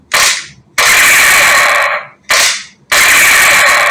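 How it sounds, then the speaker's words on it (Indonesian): Electronic gunshot sound effect from a battery-powered toy AK74 long rifle, loud and close, playing in two bursts of rattling automatic-fire noise, each opened by a short crack, with brief silent gaps between them. "kalau hanya kita tekan sekali pelatuknya, dia akan mengeluarkan suara senapan seperti itu"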